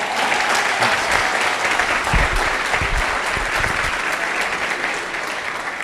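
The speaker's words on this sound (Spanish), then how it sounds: "Escucha este aplauso." An audience claps at a church sermon, a dense sustained applause filling the room, loud and even from start to finish with only faint voices mixed in.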